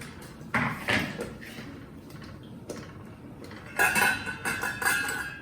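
A pot of thick potato and cauliflower soup rattles on the stove, giving scattered metallic clinks and clatters in short bursts, louder toward the end, with no talking.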